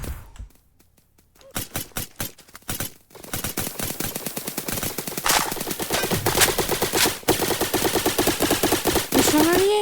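Rapid gunfire from a Roblox video game rattles in dense automatic bursts that run almost continuously after a brief lull, loud and close, with a few single shots at the start.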